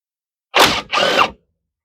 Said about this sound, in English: Undo the two big bolts holding the strut to your spindle.